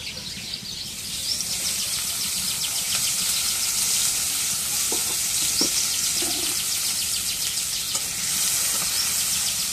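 Hot oil sizzles in a pan in a home kitchen where fish roe and radish greens are being cooked, a steady close hiss throughout with faint chirps in the background.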